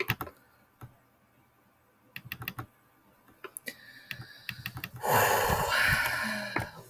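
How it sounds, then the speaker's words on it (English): Keys on a computer keyboard click in scattered single taps and quick bursts, close and crisp, with one firm keypress standing out; a louder rustling noise swells near the end. "click enter on my keyboard"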